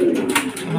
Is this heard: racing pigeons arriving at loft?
yes